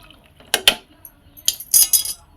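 A metal spoon stirs cauliflower sambar in a cooking pot, giving a few sharp clinks and scrapes in two short bursts with quiet gaps between them.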